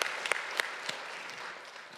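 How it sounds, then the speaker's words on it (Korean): Church congregation applauding in thanks during a Sunday sermon, a steady wash of many hands clapping with a few sharper individual claps standing out, moderately distant and even throughout. "감사의 박수 올려드릴까요?"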